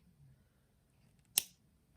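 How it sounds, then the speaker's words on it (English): Scissors or cutters snip through a jewelry chain while making a coin pearl and seed bead pendant necklace: a single sharp, close click stands alone in a quiet room. "And we can snip the chain off here."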